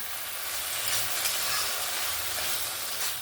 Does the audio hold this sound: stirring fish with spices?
yes